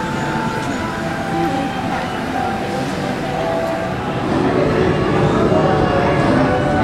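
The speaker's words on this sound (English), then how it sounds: "We're getting on the train." Ride aboard a train at Universal Orlando, a steady loud rumble and clatter of the moving car running continuously throughout, with people talking over it.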